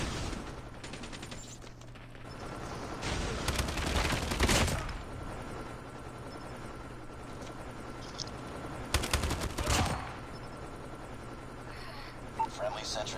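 Bursts of automatic gunfire in the mobile shooter Call of Duty Mobile, with two loud, dense volleys standing out over a steady battle background and scattered quieter shots.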